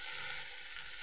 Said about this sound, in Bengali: সকালে জলখাবারে আজকে সাদা আলুর তরকারি করবো, জিরে আর কাঁচা লঙ্কা দিয়ে